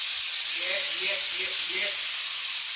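Steak strips for pepper steak sizzle in a hot pan with a steady, bright hiss that holds throughout. A voice briefly speaks over the sizzle.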